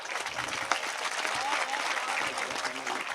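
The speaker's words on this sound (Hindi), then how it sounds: "तालियों से पंक्तियां थोड़ी सी बिचल रही हैं।" Applause from an audience at a Hindi poetry recital, a dense steady wash of clapping filling the room throughout, with faint voices mixed in.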